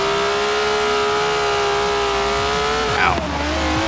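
A 1967 Ferrari 330 with ceramic-coated exhausts in Forza Horizon 4 drones at steady high revs, loud and sustained, with a quick gear change or rev dip near the end and a brief tire squeal.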